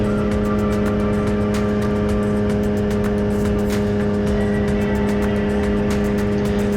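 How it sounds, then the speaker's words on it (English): Avid Flyer light aircraft with a Rotax engine held at full throttle while climbing on a cold day: a loud, steady, continuous engine drone with no talk over it. "during my climb, I use full throttle takeoff. Once I get airborne, I hold into full throttle."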